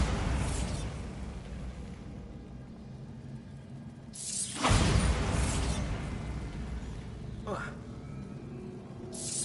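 The Bombarda blasting spell in Hogwarts Legacy: two loud, broad explosive bursts several seconds apart with a smaller pop later, amid rumbling game ambience and talk.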